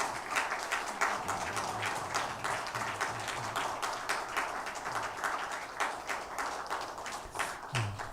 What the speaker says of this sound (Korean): 우리 성가대원들을 향해서 감사의 박수 하겠습니다.